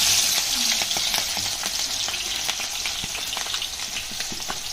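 Onions frying in a pan, a bright, steady sizzle close up with frequent sharp crackles and spits across the whole stretch, no one speaking.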